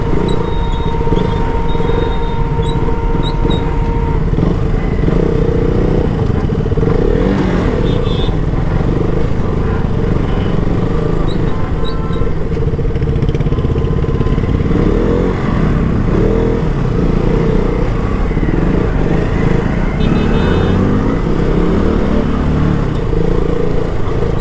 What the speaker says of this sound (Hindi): तो गाइस यार इतना ज़्यादा ट्रैफिक है ना